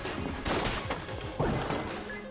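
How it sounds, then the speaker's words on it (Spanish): Rapid video-game gunfire from Enter the Gungeon strikes the player character in a burst of sharp shots and crashing impacts, loud and clear with no talk over it. "¡Ah! Me he comido un disparo."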